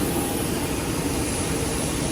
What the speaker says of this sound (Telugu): ఇదే మనం వచ్చిన ఫ్లైట్.